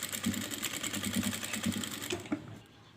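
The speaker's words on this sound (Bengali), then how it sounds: "এটা চিকন করে নিয়ে এই যে এইটাকে এইভাবে সেলাই করে দেব।" Close, steady whirring of a sewing machine stitching ribbon onto a thread tassel, with rapid rhythmic needle clatter for over two seconds before it stops and fades to quiet.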